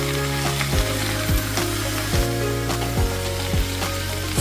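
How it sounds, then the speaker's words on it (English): Squid and vegetables are stir-fried with black pepper for a Korean dish, giving a steady loud sizzle broken by regular scraping and clanking stirs about every half second to second. "Stir-fry a little bit of squid."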